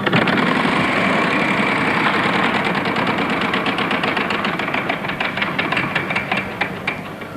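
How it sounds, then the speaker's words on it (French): A game show prize wheel spins, giving a steady loud clattering whir of rapid ticks that gradually slow and spread out toward the end, with no talk over it. "Et Elisabeth, vous lancez la roue"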